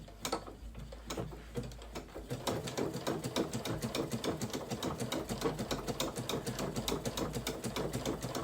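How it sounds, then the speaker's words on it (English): A sewing machine fitted with a circular stitching attachment runs steadily, a fast rattling mechanical clatter of stitches heard close and alone after a few slower starting clicks. "And then I'm going to go ahead and start stitching."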